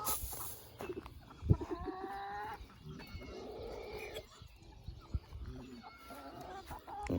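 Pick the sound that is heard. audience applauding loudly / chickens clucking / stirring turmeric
chickens clucking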